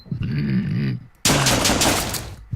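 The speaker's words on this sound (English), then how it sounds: "Shot off shotgun, baby." A shotgun blast from the video game Deadbolt, heard as a sudden loud burst that cuts in after a stretch of voice-like sound and rings out with a long, noisy tail.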